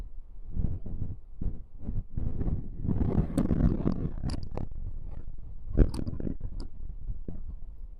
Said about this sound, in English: the views are amazing, but the wind is too massive